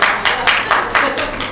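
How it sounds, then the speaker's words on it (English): An audience claps together at a government academy presentation, a short burst of regular, close, fairly loud hand claps about five or six beats in under two seconds. "A round of applause."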